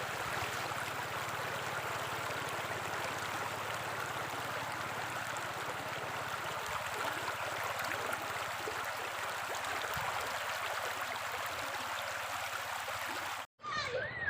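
A clear mountain-fed river flowing at Manlocboc, Aguilar, a steady broad rush of water running close and continuous, with faint voices in the background and a brief sharp dropout near the end.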